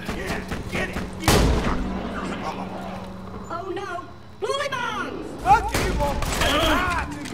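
Bombs and gunfire exploding in Borderlands 2: a loud boom lands early, followed by scattered blasts and shots under a busy game mix, with a voice talking throughout.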